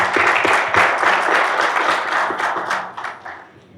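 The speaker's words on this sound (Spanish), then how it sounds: "Les pido un aplauso para Lorena," An audience at an urban mobility seminar applauds for a speaker, with dense, close clapping from many hands at a loud level that thins and fades over the last second.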